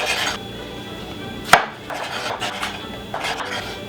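A knife chopping ripe Quebec tomatoes on a cutting board while making a Greek salad, with a few distinct cuts and a sharp knock, faint scraping between them, close up and moderately quiet.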